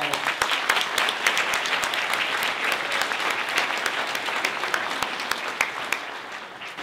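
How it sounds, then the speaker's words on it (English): Audience at a school district's annual state-of-the-schools event applauds, a sustained, even wash of many hands clapping with a few louder nearby claps standing out. "Let's give everyone a round of applause."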